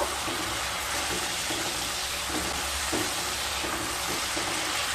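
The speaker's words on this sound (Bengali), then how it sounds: "হিং দিয়ে আবারও একটু কষিয়ে নেব" Spices fry with half a spoon of asafoetida in a pan for a vegetarian raw papaya curry, producing an even, continuous sizzle close by with faint stirring.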